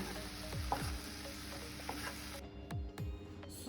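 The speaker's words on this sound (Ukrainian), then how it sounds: "Смажимо 1-2 хвилини." Mushrooms with sour cream sizzle steadily in a pan while a utensil scrapes and stirs with several soft knocks, the frying hiss briefly dropping out.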